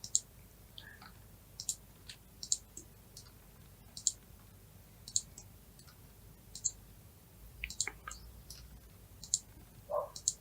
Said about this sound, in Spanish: con el comando puntos, vamos a hacer clic en cada intersección.